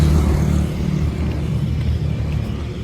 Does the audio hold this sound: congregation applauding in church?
no